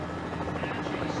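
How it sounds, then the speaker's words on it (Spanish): A helicopter flying over the 2003 road cycling world championship race in Hamilton: a continuous, droning rotor buzz, with commentators talking over it. "ahí está abriendo el helicóptero"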